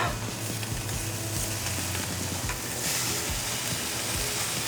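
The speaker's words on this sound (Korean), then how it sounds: "기름 한 큰술만 이 저 튀겨지는 맛이 있어야 돼" Spam slices frying in a tablespoon of oil in a pan, a loud, steady crackling sizzle with bursts of popping spatter, close up and with no talk over it.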